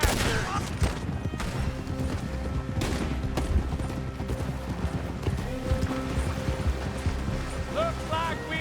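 Gunfire during a horseback shootout in Red Dead Redemption 2, scattered shots cracking over galloping hooves and clattering action, with voices shouting in between.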